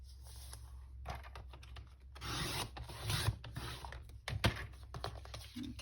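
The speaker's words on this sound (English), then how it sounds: "let me cut this down to 2 inches because we can use these scraps" Scissors or blade cutting paper scraps for a string journal, soft rasping and scraping strokes in irregular bursts, close and fairly quiet over a low hum.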